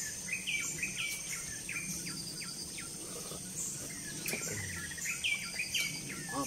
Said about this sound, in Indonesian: Ah banyak bunyi kicau Balan.